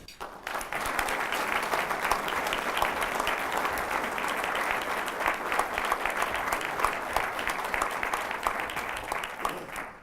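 A room of Rotary Club members applauds steadily for about ten seconds to welcome a guest speaker, a dense, even clapping that fades slightly at the end.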